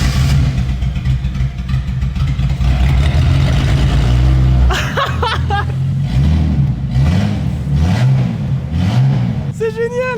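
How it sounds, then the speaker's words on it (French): A car's engine is started and revved with the exhaust line removed, running only through the catalytic converter. The result is a loud, raw, rising and falling roar that repeatedly swells in rhythmic bursts, with voices heard over it. "Il est maintenant l'heure de démarrer la voiture et pour rappel la ligne d'échappement est derrière la voiture."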